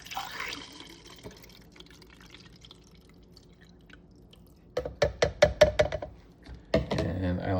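Film developer is poured into a developing tank, heard as a run of sharp splashing gurgles in quick succession after a quiet stretch, close and fairly loud.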